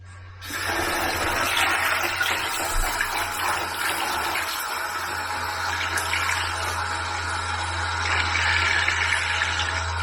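Toilet cistern refilling through its fill valve, a steady loud rush of running water that starts abruptly and continues unbroken, close by, with a low constant hum underneath.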